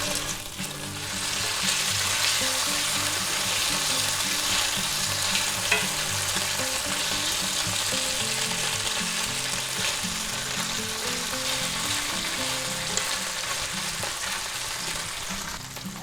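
Shrimp seasoned for a shrimp and lobster sauce fry in a pan, a steady dense sizzle running loud and continuous throughout with faint scraping and stirring underneath.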